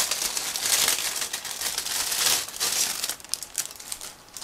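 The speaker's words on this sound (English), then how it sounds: "So let's open it. It's a resealable plastic bag." A resealable plastic bag from a plastic model kit box being opened and handled, giving bursts of close, crisp crinkling and crackling that come and go over several seconds.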